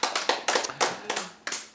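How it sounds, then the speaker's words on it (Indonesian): Church congregation clapping hands in a few sharp, close bursts of quick claps with brief gaps between them. "Tepuk tangan betul."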